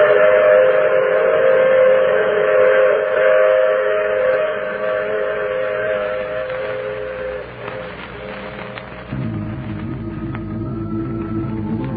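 A train runs steadily as a radio drama sound effect, wheels rumbling with a long whistle-like tone in the first half before the clatter shifts and continues alone.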